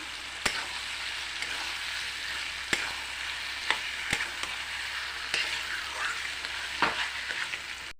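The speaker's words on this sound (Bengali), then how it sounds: "এখন একটু সময় নেড়ে চেড়ে সর্ষেটা ভালো করে মিশিয়ে দিতে হবে।" Mustard paste for a pickle is stirred into hot oil in a pan, producing a steady, close sizzle with occasional sharp scrapes and clicks of the spoon and no speech.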